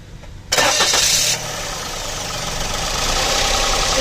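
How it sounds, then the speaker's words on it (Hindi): A Toyota Paseo's engine cranks briefly and catches, starting with a sharp burst of starter noise before settling into a steady close idle. "ऑन करा, गाड़ी स्टार्ट करा।"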